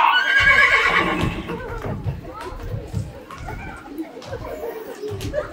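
A pantomime horse whinny, probably a performer's voice imitating the neigh, rings out loud and high at the start on a theatre stage, followed by busy stage chatter and clattering movement.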